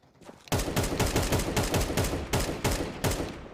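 AUG rifle firing in Counter-Strike 2, a rapid series of sharp close gunshots in quick irregular bursts over roughly three seconds.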